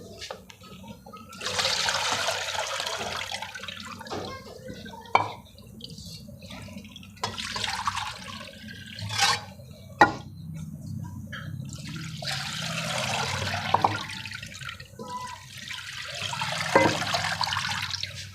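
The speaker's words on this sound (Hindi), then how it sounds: "आलू भी असी बरीक बरीक कट्टे ने, असी धो लेने।" Finely cut potatoes are rinsed in water in a home kitchen, with running and splashing water close by in several longer bursts and occasional knocks of a bowl or utensil.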